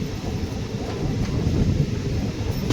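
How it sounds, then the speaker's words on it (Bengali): A passenger train running on the Kashmir railway near Pampore station, heard as a steady low rumble of wheels and carriage noise, loud and continuous throughout. "ভূস্বর্গে ট্রেন চড়া একটা অন্য ধরনের অভিজ্ঞতা"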